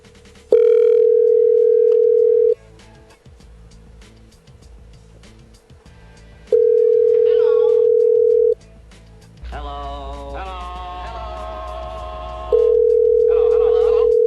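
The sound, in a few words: telephone call ringing unanswered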